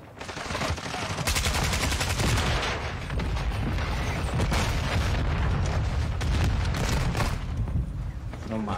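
Dense, continuous video-game gunfire with rapid bursts and booming rocket explosions, loud and sustained throughout with no pauses.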